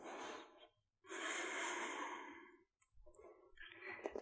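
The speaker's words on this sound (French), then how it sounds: "Une dernière respiration." Deep, slow breaths during a slow, energizing winter yoga session: a long inhale, a pause, then a long, airy exhale and a softer breath after, close and clear with no talking.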